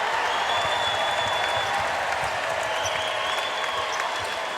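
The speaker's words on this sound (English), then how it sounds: "Crowd is up. Sold out crowd here at the Kennel." Sold-out crowd roaring continuously inside the Kennel arena during a Gonzaga vs UC Irvine women's NCAA tournament basketball game, a dense steady wash of cheering and applause throughout.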